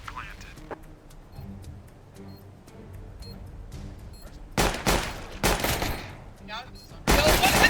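Gunshots in Counter-Strike: Global Offensive during an esports match: scattered quiet ticking and taps at first, then several loud, sharp bursts of rifle fire close by, with a commentator talking over the action.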